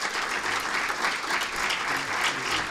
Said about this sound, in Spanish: le recibimos con un cálido aplauso